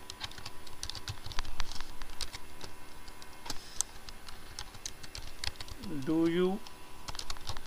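Computer keyboard typing while writing Python code, a scatter of sharp irregular key clicks under a voice that speaks briefly, with a short tonal chirp near the end.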